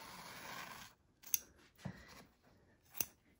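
Scissors trimming the top of a plastic zip bag: three separate sharp snips, close and crisp, with a quiet pause between each cut.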